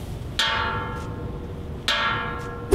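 A plastic container holding boiling hot water gives two clear, ringing, bell-like pings with long shimmering decays, each followed by a faint echo tap, close and quiet.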